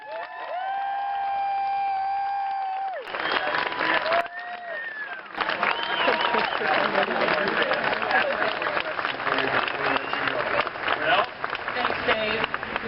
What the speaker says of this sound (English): how about a big round of applause for our